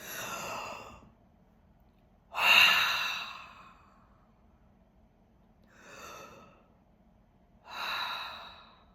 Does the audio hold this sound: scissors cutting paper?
no